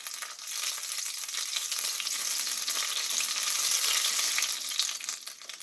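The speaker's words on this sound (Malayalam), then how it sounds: "അണ്ടിപ്പരിപ്പിട് ഫ്രൈ ആയി വരുന്നുണ്ട്. അതിലേക്ക് നമുക്ക് റൈസിൻസ് ഇട്ട് കൊടുക്കാം." Cashews and raisins fry in hot ghee with a dense, continuous close-up sizzle that holds steady throughout and eases slightly at the end, no voices present.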